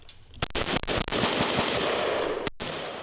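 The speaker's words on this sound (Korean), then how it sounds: "준비된 사수 신호에 맞춰서 사격 개시" Soldiers fire rifles on a shooting range during close-quarters combat training, a dense burst of rapid, loud gunshots cracking close together almost continuously, with one brief gap near the end.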